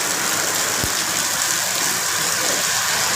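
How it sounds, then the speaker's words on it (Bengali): Steady rain falls in a continuous, even hiss of drops, with one brief low thump early on and no voices. "দেখেন আপনারা কত সুন্দর বৃষ্টি হইতেছে আজকে।"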